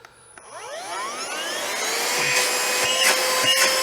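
An XREXS handheld cordless vacuum cleaner starts up with a rising whine that climbs in pitch and settles into a steady, moderately loud motor hum close by.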